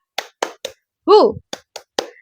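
Class of fourth-grade pupils doing the rhythmic 'tepuk semangat' clapping game, three crisp claps, a loud group shout, then three more claps with a final clap, all close and distinct.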